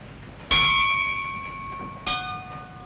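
A ship's bell aboard a vessel in a 1936 comedy film rings out with two bright metallic strikes, each leaving a long, clear ringing tail that slowly fades, with no talking.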